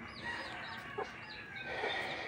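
Native chickens cluck softly inside a brooder cage, with a few short calls and chirps over a steady background hum.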